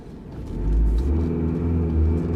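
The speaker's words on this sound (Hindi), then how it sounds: "आज मैं एक बार प्यारा सा 0 to 100 ट्राई कर लेता हूँ" A Tata Harrier Dark Edition SUV in sports mode pulling hard from standstill toward 100, a deep loud engine rumble building quickly and holding steady, heard close from inside without talk.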